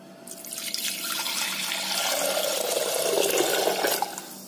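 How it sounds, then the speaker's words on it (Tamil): Water pours steadily into a burnt metal pot, close and continuous, the pitch dropping as the container fills, then stopping. "இப்போ நம்ம இதில் பார்த்தீங்கன்னா தண்ணி ஊற்றிப்போம்"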